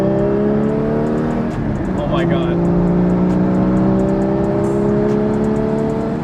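Mercedes G550 4x4 Squared engine holding a steady, loud, close revving drone with a brief dip and climb midway, under excited talk.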